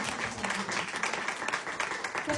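A worshipping congregation in a Nepali Christian service clapping in unison, sustained rippling applause from a crowd with a light pulsing rhythm and faint voices underneath.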